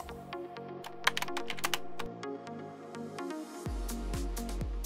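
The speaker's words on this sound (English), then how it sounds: "When it is on, type anything in the console." Typing on a computer keyboard at a console for an embedded development board, with a dense run of close, crisp key clicks and a few sharper strokes over a steady low hum, no talk.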